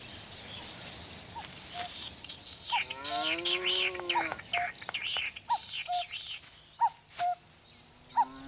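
Snipe courtship calls ring out over a Hokkaido marsh: a series of short, clear, fairly faint chirping notes at irregular intervals, plus a drawn-out rising call, set against quiet open-air background noise.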